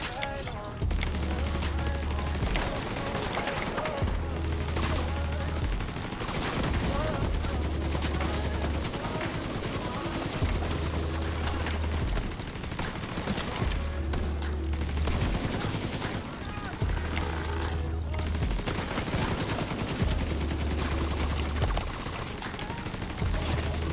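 An automated turret keeps firing in The Division 2 video game, with sustained loud bursts of gunfire and a recurring low pulsing rumble between volleys, dense and close, with a little talk underneath.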